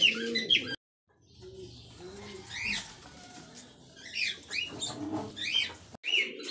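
Pigeons in a mini aviary coo in low, repeated rolling calls, with chirps and rustling mixed in, fairly close and steady throughout.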